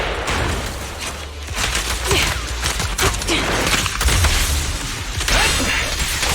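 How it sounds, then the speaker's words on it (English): Rapid gunfire from a Grim Vulture enemy in the Zenless Zone Zero video game, dense bursts of shots and sharp impacts crackling loudly through the whole stretch, with no talking. "Watch out for Grim Vulture taking shots from afar."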